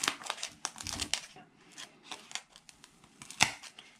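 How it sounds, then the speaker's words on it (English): Scissors trimming craft material for a no-sew Dollar Tree gnome produce quiet, quick snips mixed with papery rustling and crinkling, close and soft, with brief pauses between cuts. "I'm going to trim that one just a little bit with some scissors"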